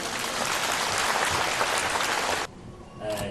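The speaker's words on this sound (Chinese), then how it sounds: "让我们掌声欢迎。" An audience applauds at a gathering, dense steady clapping that fills the space and then cuts off abruptly near the end, followed by a brief quieter bit of noise.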